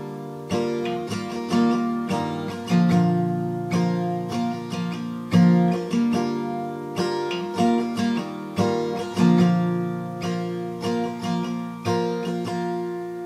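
Strummed guitar chords with a capo in a steady rhythm, playing the intro progression of a song, a short repeating chord progression, clear and close with no voices.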